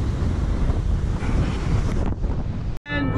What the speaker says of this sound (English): My goodness, it was windy, guys, like crazy.